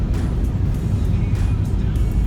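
A car drives along a road in Okinawa, giving a steady, loud rumble of engine and road noise close to the listener, with no break from start to finish.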